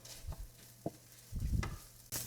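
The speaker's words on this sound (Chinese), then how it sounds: "我们一直用中火翻炒" Cooked rice with soy sauce is stir-fried in a pan over medium heat, with soft scraping strokes of the spatula and a quiet sizzle in short, irregular bursts.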